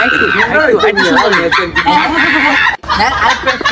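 A person mimics a goat's bleat, a loud, close, wavering nasal voice held for several seconds with a brief break near the end.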